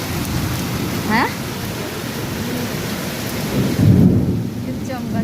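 A downpour with thunder: dense steady rain hiss close by, a deep thunder rumble swelling near the end, and brief voices or calls cutting through the storm.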